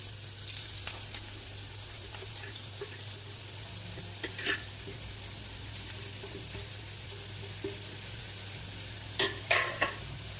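Chopped onion, ginger and green chilli frying in coconut oil in a pan, giving a continuous soft sizzle with occasional sharp clinks and scrapes of stirring, close and without speech.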